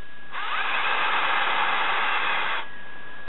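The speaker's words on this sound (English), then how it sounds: "we're going to put this 4-inch posi 3 screw through this piece of chestnut" A Ryobi 18V hammer drill drives a 4-inch Pozidriv 3 screw into a piece of chestnut wood, one loud, steady whirring run of about two seconds that starts and stops cleanly, with no talking.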